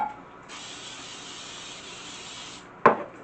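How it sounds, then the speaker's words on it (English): Cooking spray hisses steadily over muffin pans filled almost to the top with nutty coffee cake batter, one continuous spray lasting about two seconds, followed by a sharp knock or clatter. "And I spray them real good."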